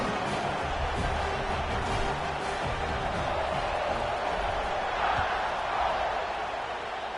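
A college football stadium crowd waits for kickoff just after an extra point, a loud constant roar of many voices that fills the background without pause.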